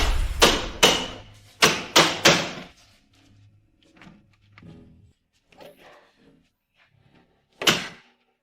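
A door is opened and shut several times: a rapid cluster of sharp, close thuds and latch clicks comes first, then softer rustling, and one more firm thud near the end. No one speaks.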